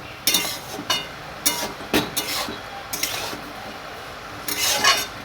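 Mola fish and vegetables are stirred in a pot in a village kitchen, with a spoon scraping and clinking against the metal in irregular bursts over a soft background sizzle.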